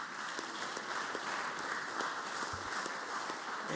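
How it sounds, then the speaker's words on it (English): Applause fills a state senate chamber for its president, a dense, even wash of clapping that holds steady and fairly faint throughout, without voices. "Let's give him a round of applause for just being our president."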